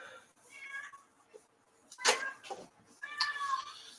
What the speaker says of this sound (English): Cat, what are you doing?